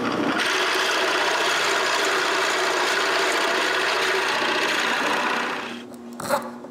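A drill bores a hole into the end of a wooden ceiling beam with a loud, steady, close grinding whir that runs for about five seconds, then cuts off, leaving a brief clatter.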